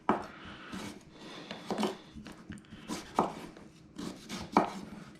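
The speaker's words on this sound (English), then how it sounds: "chop this up" A knife roughly chops a thick-peeled vegetable for meat soup on a board, a run of close, fairly faint, irregular thunks and scrapes with no talk.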